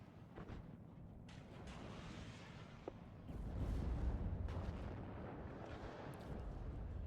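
Artillery fire in the WARNO real-time strategy game: a continuous rumbling barrage of distant booms and blasts that swells louder midway and keeps rolling without a clear break.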